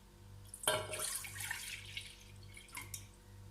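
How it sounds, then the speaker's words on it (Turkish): Milk is poured into a pot for semolina halva syrup: a quiet splashing pour starts abruptly, runs for about a second and a half, then tapers into a few soft drips. "Önce şerbetimiz için sütümüzü koyuyoruz."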